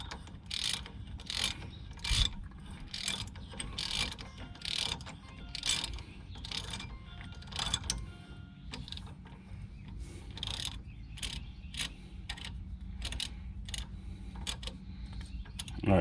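A ratchet socket turns a two-piece die along a damaged stud, giving a rapid, regular clicking of the pawl, repeated in steady bursts close by for a long stretch with no speech.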